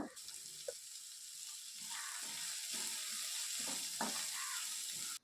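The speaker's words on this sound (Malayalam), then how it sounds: "ക്യാരറ്റും മറ്റും ഓവറായിട്ട് വഴറ്റിയെടുക്കേണ്ട ആവശ്യമില്ല" Chopped carrot, green chili and curry leaves sauté in a pan, giving a soft continuous sizzle with faint scraping and stirring, quiet and close, with no talking.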